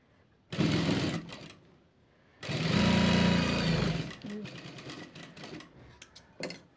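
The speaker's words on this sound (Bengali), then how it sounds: "সেলাই করে নেব" A sewing machine stitches a blouse in two loud whirring bursts, one short and one longer, followed by softer intermittent clicks and brief runs of the motor close by.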